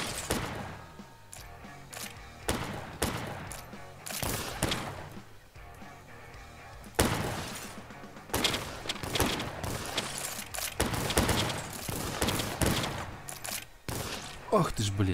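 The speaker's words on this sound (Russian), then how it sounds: "Ружье, патроны в кладовке. Бери, сколько унесешь, и отстреливай этих ублюдков у главного входа." Rifle fire in the video game 12 is Better Than 6 comes as a rapid series of loud, sharp shots in bursts with brief gaps, growing denser toward the end, with some voice underneath.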